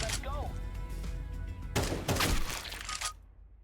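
Gunfire in the video game CS2, a rapid burst of close, sharp shots that cuts off abruptly, with a person speaking earlier.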